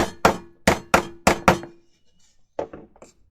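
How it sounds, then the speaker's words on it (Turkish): A KL PRO KL ZC 6030 E electric nailer and 8/16 stapler fires into thin pieces with six sharp, close clacks in quick succession, followed after a pause by a softer, rattling double knock. "Gördüğünüz üzere ince parçaları zımbalayabiliyoruz."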